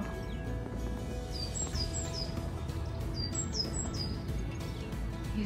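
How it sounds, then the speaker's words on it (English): Birds singing in London in spring, a series of high, thin chirps and short whistled phrases over a steady low background of distant city hum. "You can hear the birds sing."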